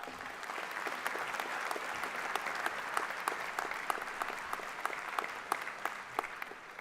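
A convocation audience at Bentley University applauding, with dense, steady clapping from many hands that carries evenly throughout, sharp individual claps standing out over a broad crowd wash.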